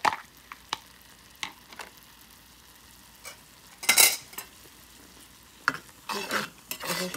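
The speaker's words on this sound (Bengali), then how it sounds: "তা আমি এটাতে ততক্ষণে মশলাগুলি কষাই।" Spices for a shrimp malai curry sizzle in oil in a pan, broken by intermittent scraping and stirring strokes and a few sharp utensil clinks against the pan, close and moderately loud.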